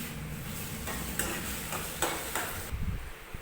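A tadka tempering for moong and chana dal fries in a pan with a broad, steady sizzle, punctuated by several short scraping stir strokes, with no talk.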